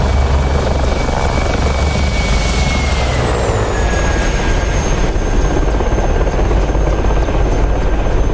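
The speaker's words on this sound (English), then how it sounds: "The flyby is good, deep, and you can hear a bit of the turbine whine in there as well" Mi-24P Hind helicopter passing by in the DCS flight simulator, a loud, continuous deep rotor rumble with thin turbine whine tones that slide downward in pitch midway as it goes past.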